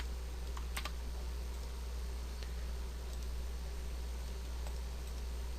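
A few faint computer keyboard clicks, a Ctrl+B shortcut press, sound sparsely over a steady low electrical hum in a quiet room.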